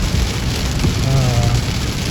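Rain pattering steadily on a Toyota Hilux Revo pickup, a dense loud hiss of drops on the body and roof heard from inside, continuous throughout with a faint low rumble in the middle.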